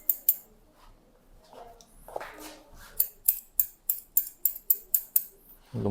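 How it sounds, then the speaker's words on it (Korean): Worn, faulty hair scissors texturize a men's high-top crop: a few scattered snips, then a steady run of about ten crisp, close cuts in even rhythm. "질감 처리를 작업하도록 하겠습니다"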